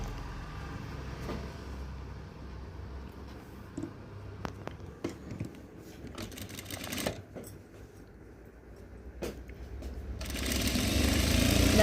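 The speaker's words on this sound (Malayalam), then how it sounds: "ഇങ്ങനെ പിടിച്ച് സ്റ്റിച്ച് ചെയ്ത് കൊടുക്കുവേ." A sewing machine stitches a yoke piece for a nighty, with short bursts of the motor and faint handling sounds that build to a louder, steady run near the end.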